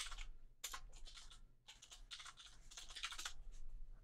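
Quiet typing on a computer keyboard while naming a file in REAPER audio software, short irregular bursts of soft key clicks with brief pauses between them.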